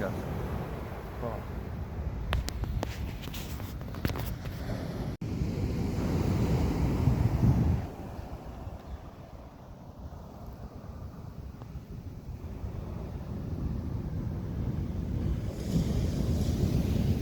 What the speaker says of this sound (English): This is the other side of the Presidio, the Pacific Ocean side.